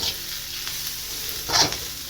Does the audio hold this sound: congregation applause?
no